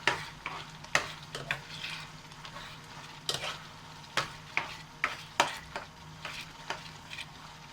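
Chilli chicken stirred in a pan with added food colour, a soft steady sizzle broken by sharp, irregular knocks and scrapes of a spoon against the pan, fairly quiet and close.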